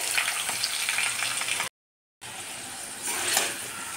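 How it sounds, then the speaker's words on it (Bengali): Potatoes fry in hot oil seasoned with asafoetida, giving a steady, close crackling sizzle that cuts out briefly to silence and then resumes, swelling slightly near the end. "আলুটা ভাজা হতে থাক। এত সুন্দর হিং দিলে ফ্লেভার বের হয়।"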